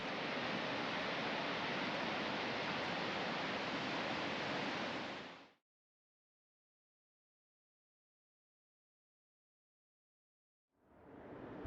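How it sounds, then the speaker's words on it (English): Undine Falls, a roadside waterfall in Yellowstone, gives off a steady broadband rush of falling water that drops out into silence for several seconds, then returns. "A short distance back to the west is another roadside waterfall,"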